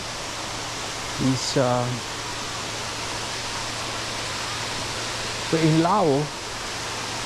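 Steady, full rush of falling water at Khoun Moung Keo waterfall in Laos, a constant broadband roar throughout, with someone speaking briefly over it twice.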